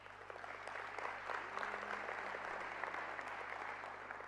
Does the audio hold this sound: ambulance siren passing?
no